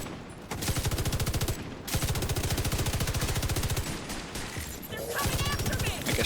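Rapid automatic fire from UIC and LMG weapons in a first-person shooter, sustained loud bursts of evenly spaced shots with brief gaps between them.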